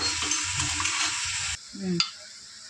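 Poppy seeds sizzling and frying in a pan while making Telugu-style country chicken curry, a steady close hiss with brief stirring scrapes, then a quieter pause and a soft clink near the end.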